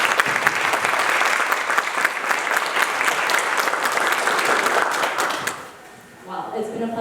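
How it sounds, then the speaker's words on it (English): Audience applause at the launch event for the Peterborough Nogojiwanong Workplace Inclusion Charter, a steady dense crowd clapping for about five seconds before fading, with faint voices picking up afterward. "Can we give a round of applause for"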